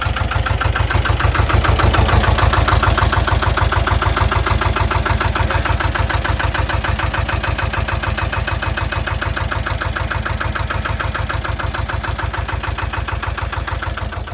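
The diesel engine of an Amida Benford 32D 4x4 site dumper idles loudly and close by, with a steady, even chugging throb that continues without a break.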